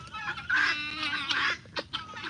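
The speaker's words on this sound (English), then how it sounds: "guineas and chickens everywhere." Guineafowl and chickens call in a busy yard, loud honking cackles and clucks overlapping in quick bursts, fairly close and with no talking.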